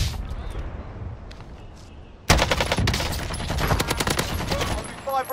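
Shooter video game gunfire: quieter ambience gives way to a sudden burst of rapid, loud automatic shots that keep rattling to the end, with a voice faintly in the mix.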